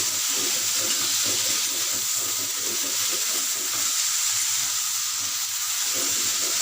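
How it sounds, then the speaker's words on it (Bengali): Ridge gourd and pointed gourd frying in oil, a constant loud hiss of sizzling with faint rhythmic stirring beneath it and no talk. "এটা একটু নাড়াচাড়া করে নেব যাতে তেলটা ভালো করে আল ঝিঙে আর পটলের গায়ে লেগে যায়"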